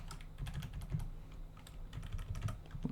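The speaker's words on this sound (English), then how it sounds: "I guess I can just type in hello." Rapid keystrokes tap on a computer keyboard, a quick irregular patter of close clicks with brief pauses, no voice over it.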